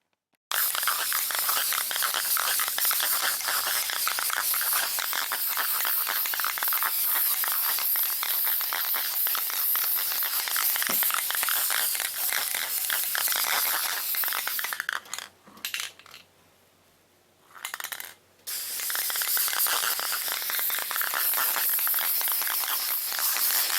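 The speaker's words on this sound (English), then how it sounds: "I'm finna get some black spray paint and I'm finna spray a layer of guide coat on it" Black spray paint goes on as a guide coat over a custom sunroof box on a Chevy Caprice, a loud, close, continuous hiss that stops briefly near the end and then resumes.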